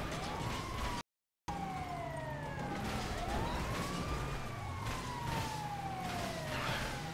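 A wailing ambulance siren in GTA V Online sweeps up and down in pitch amid a chaotic in-game car pileup, steady and moderately loud over a background rumble, briefly cutting out before resuming.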